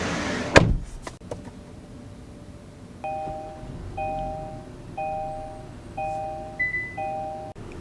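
A car door thuds shut on a 2023 Kia Sportage X-Pro Prestige, followed by a steady series of soft electronic chimes repeating about once a second inside the cabin.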